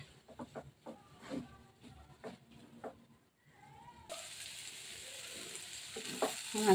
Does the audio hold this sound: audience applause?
no